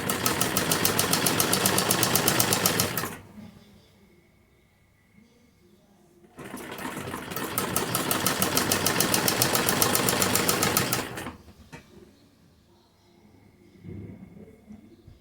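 A domestic sewing machine runs in two long continuous bursts, stitching the edge of a kurti, with quiet pauses between.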